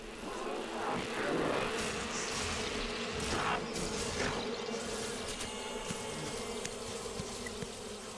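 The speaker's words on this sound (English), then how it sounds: "every fly and every wasp has its own individual sound effect" Buzzing flies and wasps from an animated film's layered soundtrack drone continuously, with several insect buzzes swelling and passing close at times over a dense hum.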